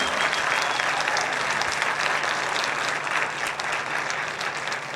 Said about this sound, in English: Would you give them another round of applause for their opening number?